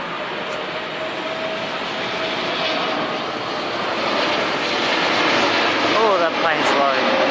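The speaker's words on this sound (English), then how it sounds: "Oh, that plane's low." A low-flying airplane coming in to land roars overhead in Guildford, a loud broad engine rush that builds steadily and fills the whole stretch, with a brief faint voice underneath.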